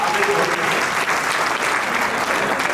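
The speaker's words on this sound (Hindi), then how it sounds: "एक बार ताली बजाइए, हमारी लड़कियां" An audience at a student merit awards ceremony claps for honoured girl students, a dense, loud, even burst of applause that holds steady throughout.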